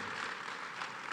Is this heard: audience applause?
yes